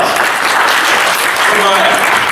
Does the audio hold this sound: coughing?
no